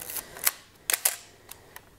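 Several sharp, quiet mechanical clicks from a Nikon FM2n film camera's mechanical shutter set to 1/8 second, the paired clicks sitting close together with short gaps between them and no talking.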